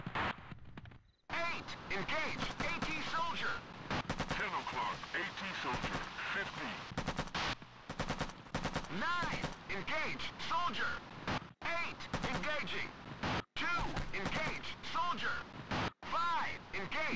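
Gunfire from a video game ambush mission, bursts of shots and rapid automatic fire running almost continuously with brief gaps, loud and close, mixed with game sounds and someone talking over it.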